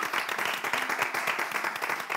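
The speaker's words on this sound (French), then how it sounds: "On va l'applaudir." Studio audience applause on a television show, steady rhythmic clapping from many hands throughout, fairly even and moderately loud with no clear speech over it.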